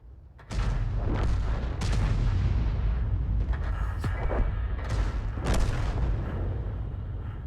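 A T92 howitzer motor carriage fires artillery shells in a tank video game, giving loud booming blasts near the start and again midway, each followed by a long rumbling echo under a steady background roar.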